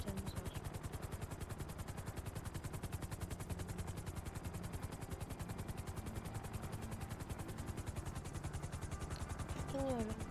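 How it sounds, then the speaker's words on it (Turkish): A helicopter in the video game GTA V produces a fast, steady rotor chop, evenly pulsing throughout with a faint engine whine underneath, continuous and fairly quiet. "Bakın arkadaşlar böyle güzel bir helikopterimiz var."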